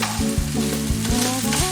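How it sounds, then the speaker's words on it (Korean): Pasta stir-fried in a pan with freshly picked garden herbs and Jeju garlic sizzles loudly and steadily, with rhythmic scraping and stirring strokes from the utensil close by and no voices. "마당에서 갓 따온 싱싱한 허브에 제주산 마늘을 넣고 파스타를 볶는다."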